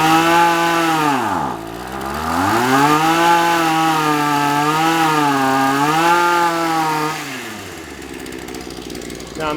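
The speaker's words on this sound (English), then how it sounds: "You heard the engine pick up" The small two-stroke engine of a Shindaiwa AH242 hedge trimmer is revved up, wavers through several rises and dips, then drops back to a lower idle. It sounds loud and close, with no talk.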